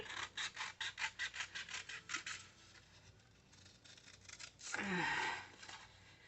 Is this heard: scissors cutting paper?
yes